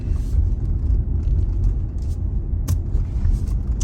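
A Tesla Model Y driving through a small town in Palco, giving a steady close road rumble and tyre noise inside the cabin, with a couple of brief higher clicks and no voices.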